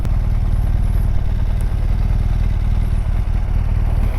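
A Honda NC750X DCT motorcycle is under way, its engine droning loud and close without a break, and a brief faint click of a smooth automatic gear change flickers once partway through.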